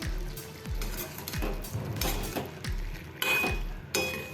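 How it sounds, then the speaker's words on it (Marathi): Spoon stirring an egg, cauliflower and potato curry in a pan, with repeated scraping strokes and metallic clinks against the pan. The stirring falls in a steady rhythm of about one stroke every half second, close and moderately loud, and no one speaks. "थोडीशी कोथिंबीर घालूया आणि मिक्स करूया"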